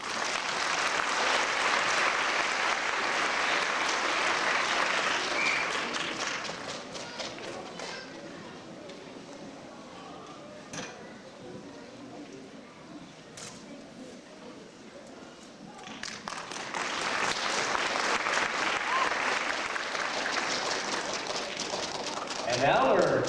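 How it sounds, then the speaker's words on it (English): Crowd applause at a 2001 Alhambra School District D.A.R.E. school graduation, loud sustained clapping that fades to a quieter stretch midway, then swells back to full strength toward the end. "let's give Linda another round of applause"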